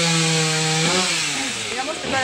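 A chainsaw running while felling a living tree outdoors, a loud steady whine that shifts pitch as it bites into the wood, with people talking over it nearby.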